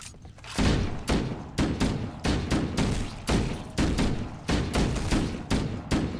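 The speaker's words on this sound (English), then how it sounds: "Oh, that's a good shotgun." Shotgun blasts from the video game Doom 3, about nine heavy booming shots in an irregular rapid rhythm, loud and close, with no talk over them.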